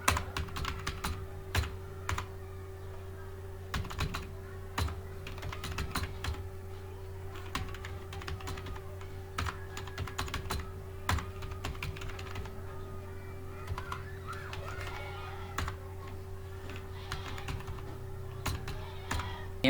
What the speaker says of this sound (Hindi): तो सबसे पहले हम यहाँ पे कुछ टेक्स्ट टाइप कर लेते हैं।